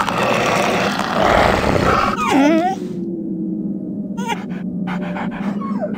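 A guard dog in Metal Gear Solid: The Twin Snakes lets out a whining, panting yelp amid loud in-game noise, followed by a quieter stretch with a faint tone and a few sharp clicks.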